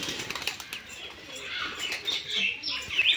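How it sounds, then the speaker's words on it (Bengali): A pigeon flies around close by, and its flapping wings make fluttering bursts that rise and fall over about three seconds. Faint chirps come through over quiet outdoor background noise, and no one speaks. "কার একটা পায়রা এসেছে আশপাশ দিয়ে উঠছে"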